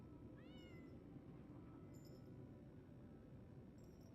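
A cat meows once in the video game Lies of P, a short rising call heard clearly over a steady low ambient rumble, with faint chiming sounds later.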